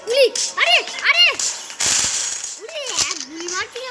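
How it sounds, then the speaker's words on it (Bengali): A gunshot fires in a video game involving a police car. A sharp broadband burst and crackle stand out among rising and falling tonal calls and voice-like sounds. "এক গুলি মারছি না উড়ে যাচ্ছে"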